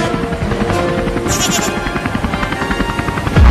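A helicopter drones steadily and loudly throughout, with a goat bleating over it in places.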